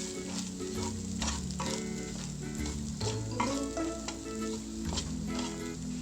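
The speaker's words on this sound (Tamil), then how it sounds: "இப்போ நல்லா ஒரு தடவை கலந்து விட்டுக்கலாம்." Boiled potatoes with turmeric powder sizzle steadily in a hot pan while being stirred, with scraping and clinking of the spoon giving a busy, continuous frying texture up close and no voices.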